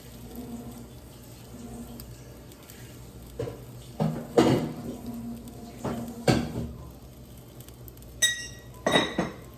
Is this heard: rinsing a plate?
yes